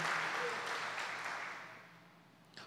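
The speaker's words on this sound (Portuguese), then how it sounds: "Você pode aplaudir o Senhor só para acordar o irmão." A church congregation applauds during a worship service, a broad wash of clapping that starts full and steadily fades away, ending with a brief louder burst.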